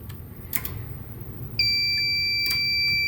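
A Siemens XLS fire alarm panel, once activated, sounds a steady, loud electronic alarm tone that begins abruptly partway through and holds continuously over a low background hum.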